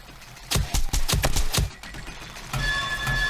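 A dev gun in the 7 Days to Die video game digs into bedrock with a quick series of sharp, loud impacts, then a steady, grinding ringing tone.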